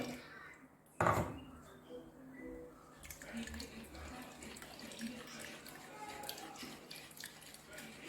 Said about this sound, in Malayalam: ഇനി കുറച്ച് വെള്ളം ഒഴിച്ചിട്ട് നമ്മളിതൊന്ന് അരിച്ചെടുക്കണം